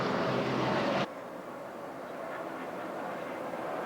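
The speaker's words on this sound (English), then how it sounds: "Back into the throttle on the back stretch, over 185, upwards 190 miles an hour as he enters turn 3." A NASCAR stock car engine roars at full throttle down a back stretch at upwards of 190 mph, a loud steady drone that cuts off abruptly and is followed by a lower, distant engine rumble.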